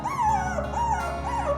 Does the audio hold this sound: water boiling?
no